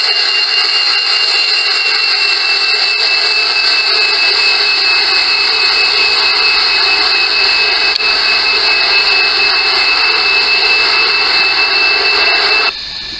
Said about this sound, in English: There's a new jet.